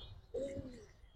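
A female Kalsi Ban pigeon gives a single soft, low coo, brief and faint against quiet background noise.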